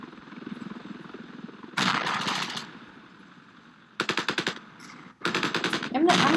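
Shotgun fire in the Ravenfield combat game: loud, sharp blasts in quick bursts over steady battlefield noise with a low engine drone, the blasts grouped into clusters near the end.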